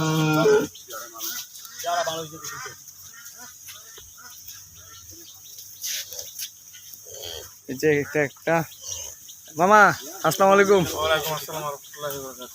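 Cattle at a cattle farm give several loud, drawn-out moos, clustered toward the end amid outdoor ambience, with a person speaking between the calls.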